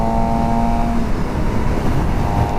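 A car cruising on a highway in sixth gear gives a steady, loud broadband rumble of engine and road noise with a faint tonal whine, continuous and unchanging throughout.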